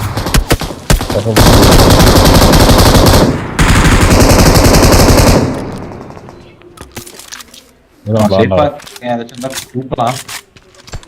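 Gunfire in the mobile battle royale game BGMI: loud, dense automatic bursts roar for several seconds, fade out, and are followed by players talking excitedly over sparse shots.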